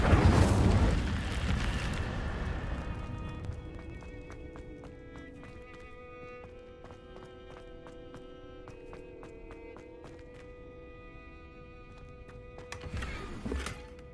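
A fiery Incendio spell blast in Hogwarts Legacy on PS5 bursts loudly at the start, then trails off into a long fading rumble under faint game tones, with a second burst near the end.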